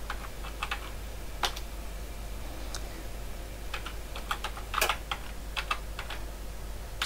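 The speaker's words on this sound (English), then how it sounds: "need to type it in correctly" Command typed on a computer keyboard for a homebuilt Z80 computer, heard as a run of quick, uneven key clicks with a few louder strokes, close and clear over a steady low hum, with no voices.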